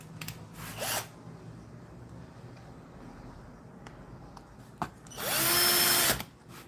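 Power drill driving screws during a refrigerator repair in a workshop, with a short whir near the start and a louder, sustained burst of about a second toward the end over quiet room noise.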